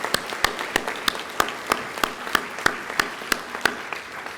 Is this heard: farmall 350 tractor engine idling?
no